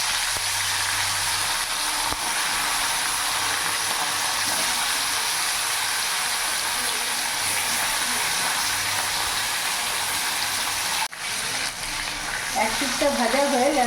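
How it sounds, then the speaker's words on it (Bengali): Sharpunti fish frying in hot mustard oil, a steady, loud, broadband sizzle filling the whole stretch with faint stirring clicks and a brief dip near the end. "তেল গরম হয়ে গেছে, এবার মাছগুলো দিয়ে দেবো।"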